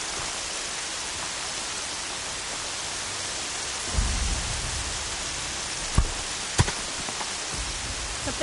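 Steady rain hissing in the video game Horizon Zero Dawn, a dense even wash of falling water with a few low thumps and sharp cracks breaking through, no talking.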